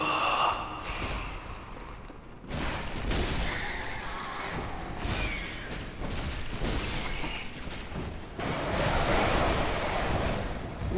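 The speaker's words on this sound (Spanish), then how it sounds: "Y tú también oirás los sonidos" Water in the video game Bloodborne washes and surges steadily like waves on a shore, with breathy gasps and sighs mixed in and no clear speech.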